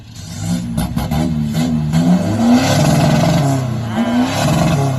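A remapped All New 1.9 2020 engine revving loudly while parked, a sustained close roar whose pitch swells and falls across several seconds with no pauses.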